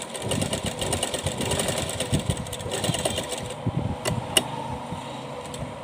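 A sewing machine stitches a small doll dress, a close, fast rattling run that stops partway, followed by a few faint clicks and quiet handling.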